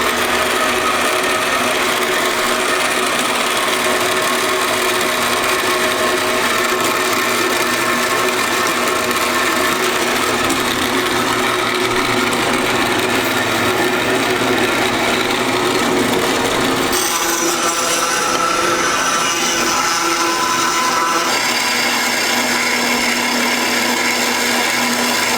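A bandsaw cuts through an exhaust pipe flange in one long, loud, continuous grinding whine, its tone shifting partway through the cut, with no talking.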